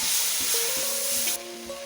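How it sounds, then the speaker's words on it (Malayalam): Tomatoes sizzle and sauté in a hot pan while chicken curry is being made, a steady broadband frying hiss with faint stirring clinks and a soft tone from the pan, fairly close. "തക്കാളിയും കൂടി ഇട്ട് അത്യാവശ്യം നല്ലപോലെ ഒന്ന് സോട്ട് ചെയ്തിരിക്കണം"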